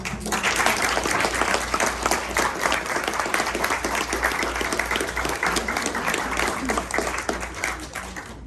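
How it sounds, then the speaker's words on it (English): Sustained audience applause fills a hall during a speech at an installation ceremony, a steady dense wash of many hands clapping at close range that holds strong throughout. "I want to give her a round of applause."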